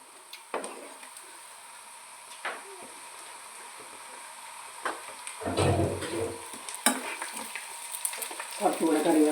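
Onion and tomato fry in a pan with intermittent stirring, spoon clacks and scrapes punctuating a low sizzle that grows busier and louder toward the end, close up with no talking.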